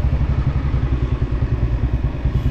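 Motorcycles idle and rumble outside a bank where people queue, a loud, close, steady low engine putter with faint clatter and no talking.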